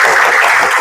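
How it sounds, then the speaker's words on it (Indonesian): A burst of applause at a teacher training session, dense and steady clapping from a sizable group filling the whole moment, close and fairly loud. "tepuk tangan buat semuanya"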